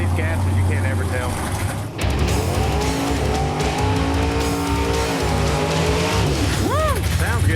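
Old school gasser drag cars making a pass at a drag strip, a loud close engine roar that rises and sweeps through rapidly shifting pitch, with a brief dip as it passes.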